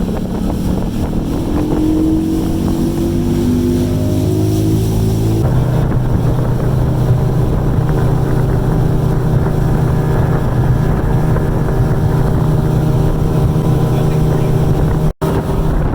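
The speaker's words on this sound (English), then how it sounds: "Boat is on its way out." A motorboat engine drones steadily, its pitch rising then settling into a constant hum, with wind buffeting the microphone.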